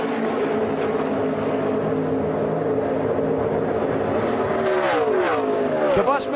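Xfinity Series stock cars race to the checkered flag at Chicagoland Speedway, with Joey Logano's Penske Racing car taking the win: a steady, loud roar of racing engines that swells near the end as cars sweep past, Doppler-bending, with crowd and commentary noise.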